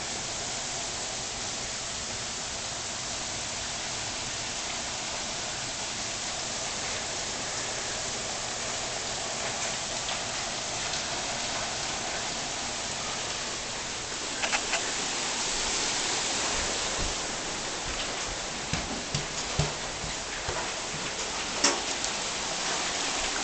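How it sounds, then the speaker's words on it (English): Heavy rain falls steadily through a thunderstorm, a dense continuous wash of noise, with sharper pattering and tapping hits on surfaces growing more frequent toward the end. "Of course, it's coming in this window now because the rain keeps shifting."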